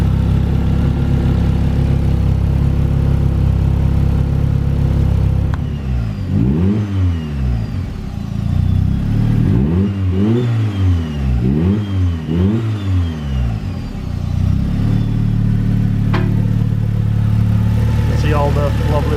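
A turbocharged Locost kit car engine idles, then revs repeatedly in a series of rising and falling bursts before settling back to a steady idle, loud and close.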